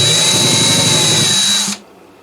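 A power drill with a 3/16 bit boring a hole into a Martin guitar: a loud, steady high-pitched whine for under two seconds that cuts off abruptly, leaving near silence.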